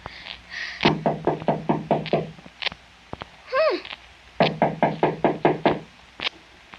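Knuckles rapping on a door in a snowy setting, two quick bursts of about eight sharp knocks each, close and loud, separated by a brief high squeak or mew.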